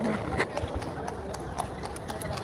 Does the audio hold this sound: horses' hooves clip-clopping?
yes